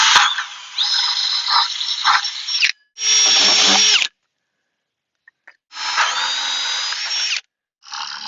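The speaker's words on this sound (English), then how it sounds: "I'm just going to drill 2 or 3 63mm holes" A power drill with a hole saw boring 63mm holes into 90mm pipe, heard in loud whining bursts separated by short pauses and near silence, up close with no speech.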